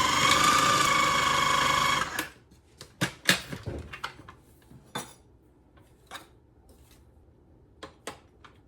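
KitchenAid food processor grinding pistachios, a loud steady motor whir that stops abruptly, followed by scattered clinks and knocks of the bowl and blade being handled.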